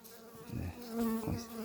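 Honeybees buzz close by around a newly released queen on the hive frames, a continuous droning hum that swells and fades in short waves.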